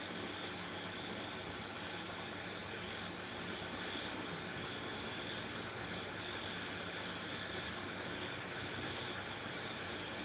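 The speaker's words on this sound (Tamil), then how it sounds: "வாகனம் சவுண்டு வருது." Vehicle noise heard from a live stream, a steady broadband rumble and roar resembling passing rail or road traffic, continuous and moderately loud without any talk.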